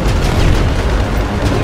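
Dense, loud gunfire and booming explosions pound continuously at a Russian tank in the GTA 5 video game, a thick roar of blasts filling the whole moment.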